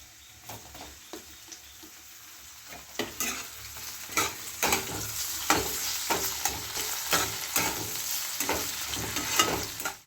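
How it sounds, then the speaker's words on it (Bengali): Chopped tomatoes and onions frying and sizzling in a pan for a masoor dal, with a steady close hiss broken by repeated scraping stirs of a spatula. "একটু পেঁয়াজটা লাল লাল হয়ে যাবে দুটো টমেটো কুচি রেখেছি দিয়ে দিলাম"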